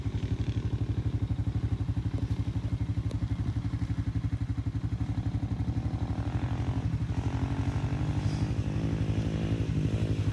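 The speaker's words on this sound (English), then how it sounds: "First time ever riding a dirt bike, and look at him go." Suzuki 125cc four-stroke dirt bike with an FMF exhaust ridden by a first-time rider, its engine droning steadily and loudly throughout with a rough, pulsing exhaust note and no talking.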